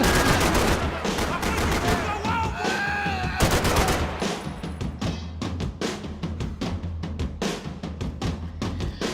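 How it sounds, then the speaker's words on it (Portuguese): Max Payne 3 gameplay with dense, loud video game gunfire, rapid shots and bursts overlapping in a constant barrage for the whole stretch. "tá muito tiroteio"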